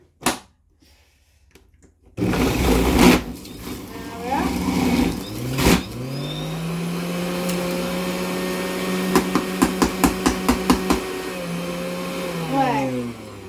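A juicer motor runs steadily with a loud sustained hum, starting abruptly after a quiet moment, with pitch shifts as it loads and a burst of rapid clattering knocks near the end before it winds down.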